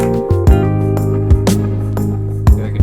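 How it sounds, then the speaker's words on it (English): Light R&B-style electric guitar fills with a few short plucked phrases over a steady sustained backing, clean and close. "So I took a guitar and I played just some really kind of R&B fills in the"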